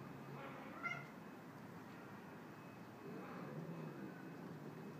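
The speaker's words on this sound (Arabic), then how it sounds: "وهدول القطاط جايين من الشارع" A cat meows a couple of times near the start, then fainter meows later, over steady background noise, among street cats fighting with another cat.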